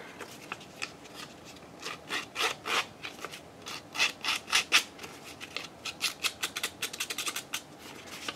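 An envelope's paper edge is roughened by hand, making a quick run of dry scratchy rubbing strokes, close and fairly quiet, with no talking over it.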